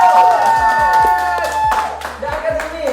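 Applause for Bang Alex after his singing at a student talk show, a short burst of clapping and crowd noise with a sustained tone ringing underneath.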